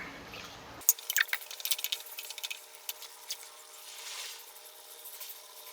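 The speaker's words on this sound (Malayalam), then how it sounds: "തിളച്ച വെള്ളം കൂടെ ഒഴിച്ചു കൊടുക്കാം." Boiling water poured into a pot of chicken curry cooked with coconut milk, a faint burst of irregular drips, splashes and sizzling bubbling that settles into a quieter simmer.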